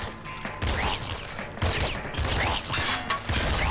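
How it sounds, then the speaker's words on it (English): Shotgun fired point blank at an exploding barrel in a video game, a burst of loud blasts and crashing debris with repeated impacts and rumbling, dense and close throughout. "Maybe exploding this barrel with a shotgun point blank wasn't the greatest of my ideas"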